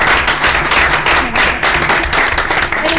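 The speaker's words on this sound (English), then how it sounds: "And round of applause." A roomful of people at a school committee meeting gives a loud, sustained round of applause, dense overlapping claps filling the space steadily from start to finish with no talking.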